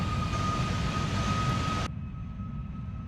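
MD-11 airliner engines taxiing in FSX, a steady loud broadband rumble with a high whine and tonal hum that suddenly thins and drops in level partway through, with no voices.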